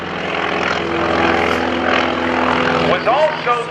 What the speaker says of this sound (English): Now, again, high overhead, Greg Shelton in the Wildcat